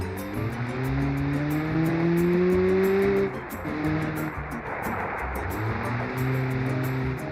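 Mini off-road truck engine in a video game straining up a hill, a steady loud drone with rising pitch as it revs, dipping briefly midway before grinding on, with tire noise throughout.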